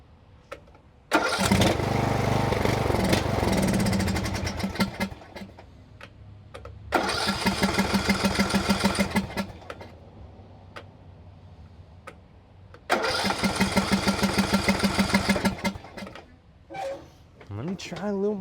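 Used lawn mower engine repeatedly started: three long bursts of loud, chugging mid-pitched running, each dying back to quiet, with short sputters near the end and someone talking in the gaps.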